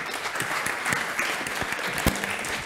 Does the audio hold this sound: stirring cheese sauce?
no